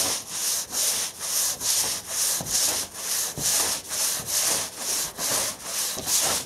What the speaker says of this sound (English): Get a normal sweeping brush and give your decking a good old clean with Budweiser.